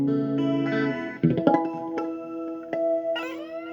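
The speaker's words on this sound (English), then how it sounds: "Trying out different reverb tanks." Electric guitar in open E tuning, played slide through a reverb tank with vibrato, chiming sustained notes and plucked attacks that ring out in a wash of reverb, alone and moderately loud.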